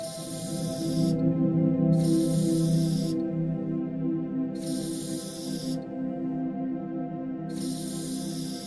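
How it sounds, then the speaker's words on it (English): Spray-paint hisses from the Keith Haring Experience video game, four separate bursts of roughly a second each, evenly spaced over steady ambient music that plays throughout. "if I walk through, you hear spray paint sounds and more images will appear"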